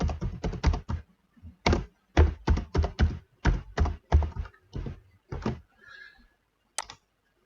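Someone types a password on a computer keyboard, a close run of sharp, separate key taps in quick bursts with short pauses between them, ending in a single final tap and no talking.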